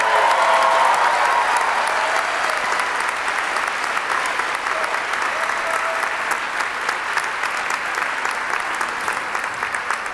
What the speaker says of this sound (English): How about one more round of applause for all those fantastic students?